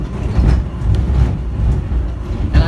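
A subway train rides toward an airport's Terminal C, and its steady low rumble and rattle fill the car. Brief metallic squeaks come through, and the noise stays loud and continuous throughout.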